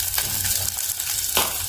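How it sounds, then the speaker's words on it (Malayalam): Shallots, green chillies and ginger-garlic paste sautéing in oil for a Kerala-style fish curry: a close, busy sizzle broken by a few scraping stirs of a spoon in the pan. "8-10 ചെറിയ ഉള്ളി, 2 പച്ചമുളക്, ഇഞ്ചി വെളുത്തുള്ളി പേസ്റ്റ് എന്നിവ ചേർത്ത് നന്നായി വഴറ്റിയെടുക്കുക."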